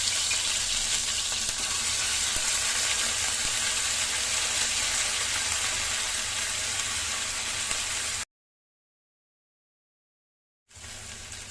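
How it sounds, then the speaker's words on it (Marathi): Mustard seeds, ginger, garlic and chili paste crackle in hot oil for a tempering for Amritsari paneer bhurji, a dense loud sizzle that runs steadily, cuts out to silence, then resumes. "आता आपण फोडणी करून घेऊया। 2 टेबलस्पून तेल, 1 टीस्पून राई, टेचून ठेवलेलं आले, लसूण आणि मिरचीची पेस्ट"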